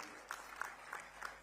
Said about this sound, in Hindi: जोरदार ताली बजाओ श्रीमान विष्णुदेव साय जी के लिए